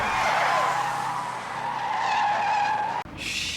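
Tires skid and screech loudly on a road as a truck and a school bus duel in Jeepers Creepers 2, a sustained squeal that cuts off abruptly near the end, followed by a brief higher screech.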